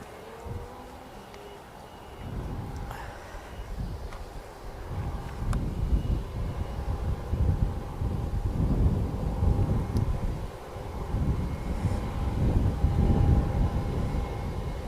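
An ATR turboprop landing at Manchester Airport, a broad engine and airframe rumble rising from faint to loud and holding steady, heard from a distance through gusty wind noise on the microphone.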